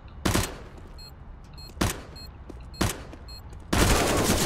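Bursts of automatic gunfire from a competitive shooter video game, with three short volleys followed by a longer sustained burst, loud and close with no talking.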